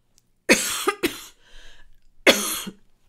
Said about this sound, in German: Es tut mir leid, dass ich gehustet habe